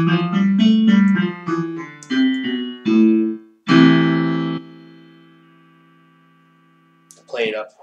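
A natural minor scale plays as a run of sustained melodic notes, the last held note ringing out and slowly fading, with a brief voice at the very end.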